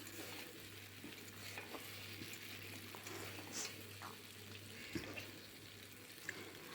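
Potatoes and okra frying in mustard oil in a home kitchen, a soft continuous sizzle with light stirring scrapes and a low steady hum, fairly faint and without speech.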